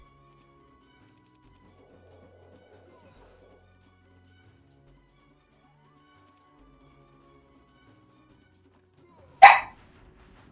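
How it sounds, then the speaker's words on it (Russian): A dog lying on a pillow lets out a single sudden, loud bark near the end after a long stretch of near-silence with faint low murmuring in the background. "лежит на подушке, главное, гавкает"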